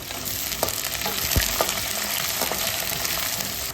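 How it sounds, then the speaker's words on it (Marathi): Long-sliced onion frying in hot oil for chivda gives a steady, dense sizzle, with a few sharp clicks and scrapes as it is stirred in the pan. It sits close and fairly loud, with no voices. "लांब चिरलेला कांदा घालते आहे कांदा व्यवस्थित परतवून घेऊया"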